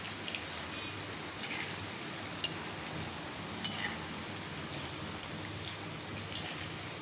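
Poha bhaji (crispy flattened-rice fritters) frying in a kadai of hot oil, a steady dense crackling sizzle with faint scattered pops, continuous and close, no talking.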